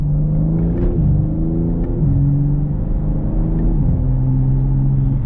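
A BMW M3 Touring engine accelerates hard, its loud, steady drone climbing in pitch and dropping briefly at a few paddle-shift gear changes, heard from inside the car.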